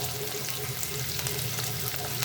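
Chopped onion and green chillies sizzle quietly in hot oil in a pan, a soft continuous crackle with faint stirring scrapes throughout.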